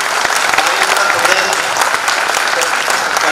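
An audience at a Hindi comic poetry recital (kavi sammelan) breaks into loud, dense applause that holds steady and sounds full throughout, with a voice faintly underneath.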